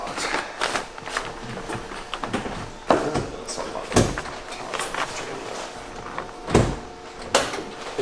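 Several sharp clunks and rattles as someone tries the handle on a locked classic Corvette door, a few distinct knocks spread across outdoor ambience with faint background voices.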